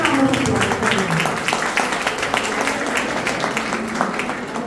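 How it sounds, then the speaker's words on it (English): An audience claps at a Teachers Day celebration, a dense steady patter of many hands in a hall that slowly eases off, with voices mixed in underneath. "big round of applause for them"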